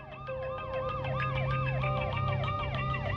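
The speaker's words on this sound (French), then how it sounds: "elle remarque un gyrophare et une sirène derrière elle" A police car siren wails in a steady repeating up-and-down cycle, loud and close, sounding behind a car on a country road with no talk over it.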